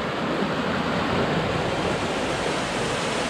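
Rushing stream at a backcountry water crossing on a hike up Pilot Knob, a steady, loud broadband wash of flowing water that stays constant throughout, with no voices.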